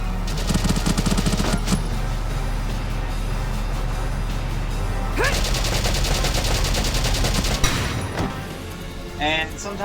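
Dense, sustained gunfire in the video game Valkyria Chronicles, rapid shots and bursts layered over game music and effects, loud and continuous throughout.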